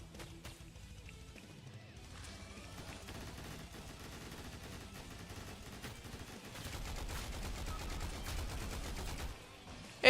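Heavy-recoil gunfire in a video game, rapid repeated shots under game background sound, fairly faint at first and growing louder and denser toward the end.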